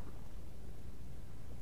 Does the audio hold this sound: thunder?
yes